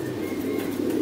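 Pigeons cooing on a pigeon breeding farm, a close, continuous low throaty coo with steady ambient hum behind it, no speech.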